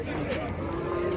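An ox lets out a sustained, low moo at a busy livestock market, clear and fairly close over a murmuring crowd background.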